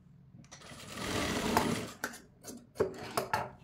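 Sewing machine running close by as it joins pieces of cloth for a frilled frock, a long steady whir of stitching followed by shorter start-stop bursts and clicks, with no voices.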